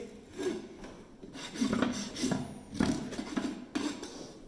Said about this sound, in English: Make sure you rasp through the heels.